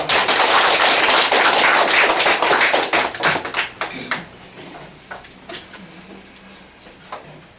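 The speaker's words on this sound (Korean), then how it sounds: "여러분 큰 박수 부탁드립니다." An audience applauds a guest professor specializing in redevelopment at a Korean real-estate seminar, a dense burst of clapping that thins after about four seconds into scattered claps and fades out.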